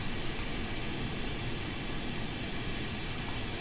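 Steady, loud jet engine roar from an airplane in a space flight video game, a constant drone with a high whine on top and no voices.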